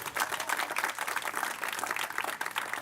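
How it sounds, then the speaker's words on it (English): Audience at a centennial celebration for the Waverly Community House applauds, a steady, dense patter of many hands clapping that stays fairly even throughout, with no voices standing out. "please, a round of applause, please."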